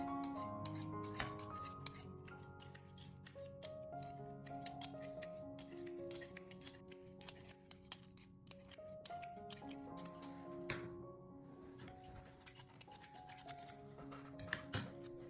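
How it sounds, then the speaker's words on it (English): Scissor blade scraped along the hard metal shaft of a screwdriver for sharpening, a quiet, close run of rapid rasping strokes and clicks with uneven rhythm, no voices. "When the scissor blade rubs against the hard metal of the screwdriver, the small edges are thinned and become sharper"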